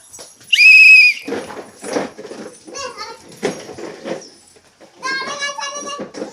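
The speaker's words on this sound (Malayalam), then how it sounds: "ടീച്ചർ വിസിൽ ശ്രദ്ധിക്കുക കേട്ടോ" A teacher blows a sharp, loud whistle during a game of musical chairs, one shrill blast near the start, while children chatter and call out around it.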